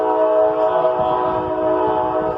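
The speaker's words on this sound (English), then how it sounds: "And thank you, Amtrak, for distracting us. It's an Amtrak train." An Amtrak train passing near a flag retirement ceremony in Deerfield, Illinois, its multi-tone horn blaring steadily and loudly over the rumble of the train, with no break.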